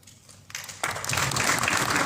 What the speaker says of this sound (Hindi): आपने छोटी सी संख्या के ऑडियंस को मोटिवेट किया कि वो इस प्रकार ताली बजाए